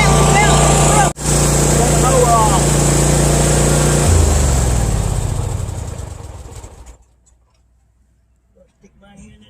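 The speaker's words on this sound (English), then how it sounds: "Stick my hand in here with that daggone mower going." A riding lawn mower's engine runs loud and steady at close range, then winds down and cuts off, leaving near silence.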